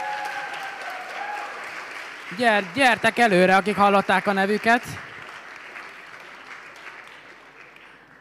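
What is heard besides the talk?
audience applause at a winter camp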